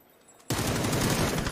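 Gunfire from a PUBG esports match on the Erangel map breaks out suddenly after a quiet half second, a dense, loud burst of overlapping shots that continues to the end.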